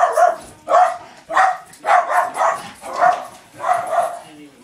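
A dog barks in six loud, evenly spaced bursts close to the microphone, each bark sharp and clipped, with brief pauses between and no talking.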